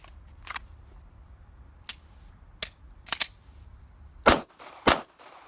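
Several sharp pistol shots crack out during a defensive pistol qualification, spaced irregularly: an isolated shot, then a close pair, then two loud reports at the end, over a quiet range background.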